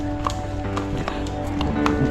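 A horse clip-clops along a walking route near the Matheran railway station, its hooves striking in a steady, fairly close rhythm under a busy outdoor background.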